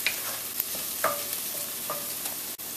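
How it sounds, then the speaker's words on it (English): Garlic sizzling and frying in a pan with softened golden onions for a swordfish stew, a steady hiss with a few scraping stirs, close and continuous with no talking. "we're going to go ahead now and add our garlic and cook for about 30 seconds"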